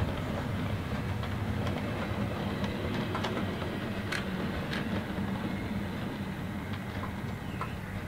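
An OO gauge English Electric GT3 model locomotive by KR Models runs in reverse on track: a continuous close motor hum and rolling rumble with faint intermittent wheel clicks, and no talking.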